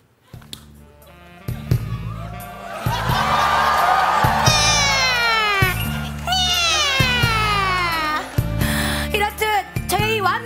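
A person imitates cat meows and yowls as a lead cat role in a street performance of the musical Cats, with loud rising and falling caterwauls over rhythmic backing music and a crowd, close and sustained.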